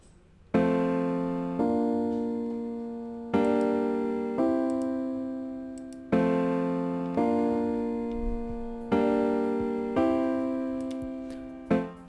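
A chord progression played on a synthesized instrument in FL Studio 20, with about seven sustained chords struck in sequence, each fading slightly before the next, clean with no talking.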